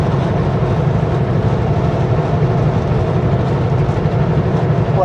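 A train stands stopped while being refuelled from a fuel truck on the prairie between Lethbridge and Lundbreck, giving off a steady, loud low rumble of idling heavy engines that holds constant and close throughout, with no talk.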